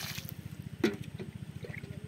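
Water pours from a bucket onto a garden plant, a steady trickling stream with a brief louder splash midway, over a rhythmic low pulsing background.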